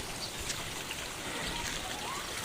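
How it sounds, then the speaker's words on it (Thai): Steady rain falls in the mountains near Khun Mae Ruam, a dense continuous hiss of drops with no clear gaps, heard close and moderately loud. "ฝนก็ตกลงมาอย่างต่อเนื่องครับ"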